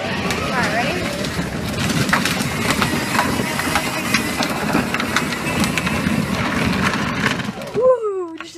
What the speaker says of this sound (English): I'm driving Kale's Land Rover instead of his little John Deere back there